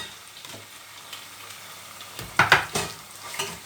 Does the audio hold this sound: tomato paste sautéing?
yes